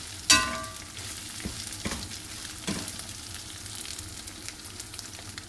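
Ginger frying in hot oil for Chinese chilli paste: a steady, fairly loud sizzle running through the whole stretch, opening with a bright clink of a utensil against the pan and followed by occasional stirring scrapes.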